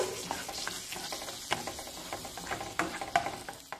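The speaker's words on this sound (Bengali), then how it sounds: "এবার যে পেঁয়াজের পেস্টটা বানিয়েছিলাম সেটা কিন্তু এবার প্যানে চালান করে দেবো।" Onion and garlic paste sizzling in a hot pan while being stirred, with a steady frying hiss broken by scraping spatula strokes and small sharp clicks, close and moderately loud with no talking.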